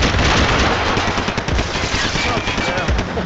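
Dense, loud automatic gunfire in the Max Payne 3 video game, with rapid overlapping shots that roll on without a break for the whole stretch.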